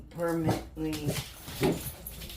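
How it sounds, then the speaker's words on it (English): Dogs in the background give several short whining yelps between sections of a woman's speech while she works on a Dollar Tree soda-bottle craft at home. "I do apologize for the dogs in the background"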